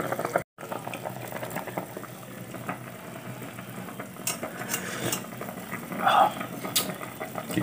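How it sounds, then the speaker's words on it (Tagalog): Fish tinola soup simmers at a steady boil in a pot, a continuous close bubbling with scattered clinks and stirring, and a voice speaks over it now and then. "Makulo na naman."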